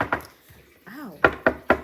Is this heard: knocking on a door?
yes